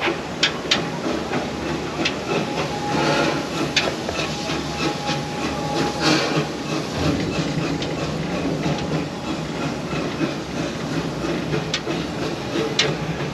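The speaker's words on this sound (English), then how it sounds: "Now we can take a look at the train coming up behind us." A train passes beyond the trees near a theme park path, a steady rumbling hiss with clickety-clack rail clicks carrying from a moderate distance over outdoor ambience.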